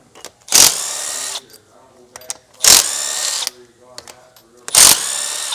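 Three loud bursts of a power tool spinning off 13 mm nuts from an EGR cooler on a 2011–2016 truck engine, each a second or less, separated by quieter metallic clicks and handling.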